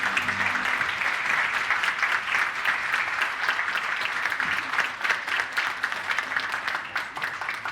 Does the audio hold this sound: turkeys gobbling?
no